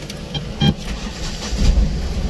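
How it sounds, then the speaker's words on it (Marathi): A new Eicher diesel truck engine cranks and catches with a short burst, then settles into a low, steady rumble close by. "गाडी केली चालू."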